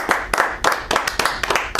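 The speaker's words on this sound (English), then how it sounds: "give him a round of applause" A small group clapping for a producer returning to his chair on a talk show, sharp hand claps in quick irregular bursts, close and loud with no talk.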